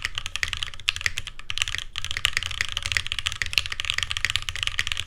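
Rapid, steady typing on a budget top-mount mechanical keyboard with rubber dampeners, close up, with a full, thocky clatter of keystrokes and a brief pause near the start.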